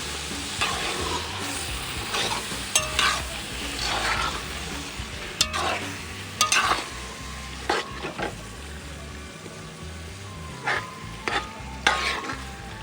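Carrots, peppers and onions sizzle in a pan of simmering tomato, a steady frying hiss broken by a dozen or so sharp scraping clinks as a utensil stirs the vegetables against the pan.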